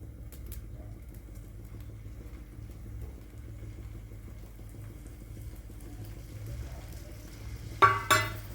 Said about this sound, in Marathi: आता आपलं तेल गरम झालेलं आहे, आपण आता त्यामध्ये हे कटलेट सोडू आपण